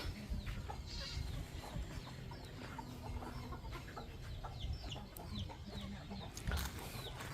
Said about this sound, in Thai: ไก่พากันนอนอยู่นี่